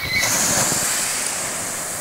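Ocean waves rushing in at Balot coral beach, a loud, steady wash of surf with some wind noise, close by, with no voices.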